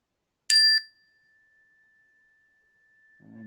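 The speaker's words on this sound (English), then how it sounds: "you can just enjoy the sound of the bell as it fades" A meditation bell for mindfulness practice is struck once, ringing out bright and clear and then sustaining a pure tone that slowly fades to near silence, with a faint low rumble creeping in at the end.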